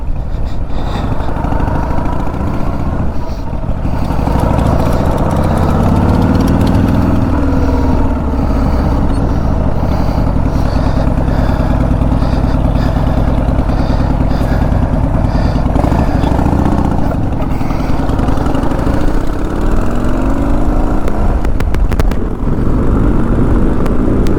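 A Harley-Davidson Sportster motorcycle engine rumbles steadily nearby, idling and revving slightly, loud and continuous with no voices.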